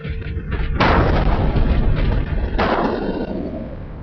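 A huge car bomb blast tears out of a white Ambassador car parked outside the Air India building at Nariman Point, Mumbai, in 1993: a loud, close explosion with a long rumbling roar and a second heavy burst following, no voices.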